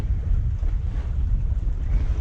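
Steady wind of around 15 knots blows across a Bavaria 41 sailboat at sea: a continuous, loud, low rumbling rush with gusty buffeting on the microphone and no voices.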